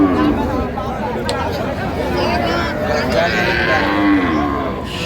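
Cows and calves moo repeatedly at the busy Raniganj cattle market in Dinajpur, their drawn-out lowing layered over constant crowd chatter and bustle.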